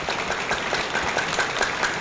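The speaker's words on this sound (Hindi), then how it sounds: "एक जोरदार तालियां होनी चाहिए ऐसी संस्था के लिए।" An audience claps at a closing seminar, a brief burst of dense, steady applause from many hands.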